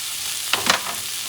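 Chicken fried rice being stir-fried in a pan, a soft frying hiss with two quick scraping strokes of a spatula moving the rice around.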